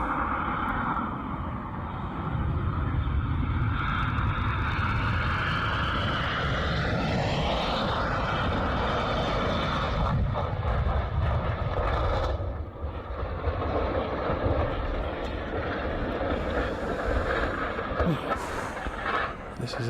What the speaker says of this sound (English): This was a runway skidding, overshooting the runway kind of event.